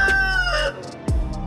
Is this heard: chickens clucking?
yes